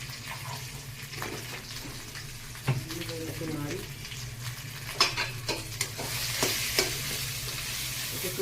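Green peas for kochuri are fried and stirred in a pan, a continuous gentle sizzle with repeated spatula scrapes and clinks throughout, close by, with occasional talk in the background.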